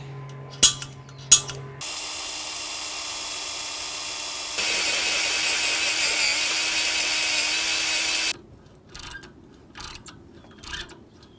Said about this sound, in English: then drill and tap those holes